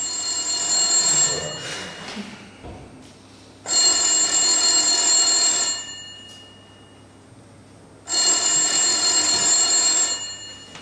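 A telephone bell ringing in a theatre stage performance, three loud, even bursts of about two seconds each separated by pauses, with no talk over them.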